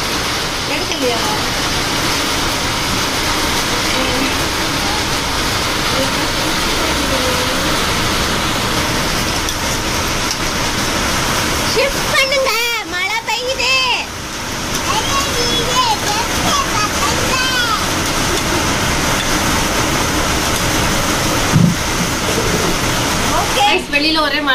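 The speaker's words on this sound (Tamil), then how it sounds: "மழை ரொம்ப மழை பெய்யுது சவுண்ட் கேக்குதா" Heavy rain falling outdoors makes a continuous loud rushing wash, with splashing texture and people talking intermittently over the steady roar.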